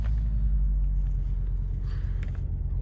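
A 1986 Audi 4000CS Quattro idles at low RPM after a cold start, a steady, close, low rumbling drone with no talking.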